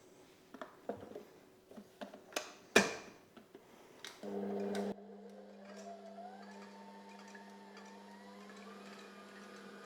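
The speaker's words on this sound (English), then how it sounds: "I'm going to whip these on high and get them to stiff peaks" An electric mixer whips egg whites on high toward stiff peaks: some clattering knocks lead into a steady motor whine whose pitch slowly rises, close and unaccompanied by speech.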